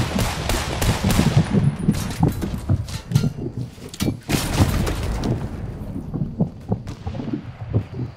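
Fortnite assault rifle fire, rapid sharp reports in clustered bursts, loud and close, with some quieter gaps and a few isolated shots toward the end.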